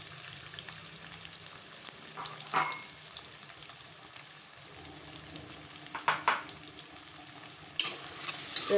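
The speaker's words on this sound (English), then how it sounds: "now I'll put on a pan and I'll fry the onions" Onions dropped into hot oil in a pan give a soft, steady sizzle and crackle, with a few brief louder bursts of stirring and clatter, and no talk.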